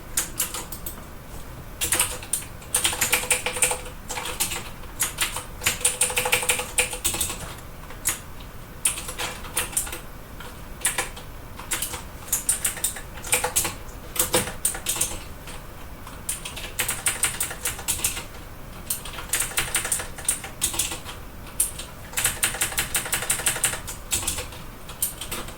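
Long, continuous stretch of steady computer keyboard typing while writing code, with dense rapid keystrokes, brief pauses and occasional heavier key hits, close and fairly loud with no talking.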